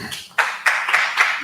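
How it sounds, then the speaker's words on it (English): Several people clap in a loose, uneven rhythm, about five sharp bursts spaced a quarter second apart, fairly close and with no talking over them. "I need some claps."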